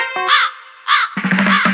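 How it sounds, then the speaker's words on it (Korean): A crow calls in two harsh caws, clear and fairly close, followed by a rhythmic musical beat from a K-pop track. "까마귀 지나가"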